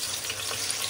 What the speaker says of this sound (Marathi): हा जो लांब कापलेला मी जो कांदा आहे त्याला मी गोल्डन ब्राऊन